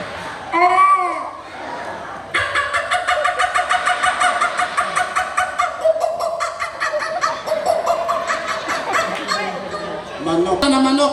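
A person's voice imitates a chicken with clucking calls at a barangay day event, loud and close, a brief squawk followed by a long string of rapid pulsing clucks, with a short burst again at the end.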